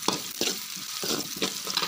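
Chopped onions sautéing and being stirred in a pan for a Tamil-style valathandu (banana stem) kootu, with steady close sizzling broken by a few scraping stirs.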